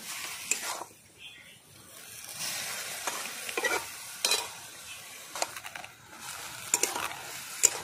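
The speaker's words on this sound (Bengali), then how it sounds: "এই যে ভালো করে নাড়িয়ে দেবো।" Betho saag greens are stirred in a pan, with a soft sizzle underneath and intermittent bursts of spatula scraping against the pan.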